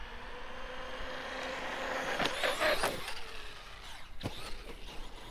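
A Traxxas Maxx V2 RC truck accelerates in snow, a faint whine followed by a brief burst of rough, scrabbling motor and tire noise, then softer clatter.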